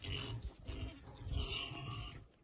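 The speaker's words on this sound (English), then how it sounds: "Think the pigs are mad today?" Pigs on a small farm give a steady run of low, close grunts during chores, quiet and continuous with no talk over them.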